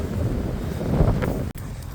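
Strong wind blows outdoors in open Lithuanian countryside near ancient burial mounds, buffeting the microphone with a steady rough roar and one brief dropout.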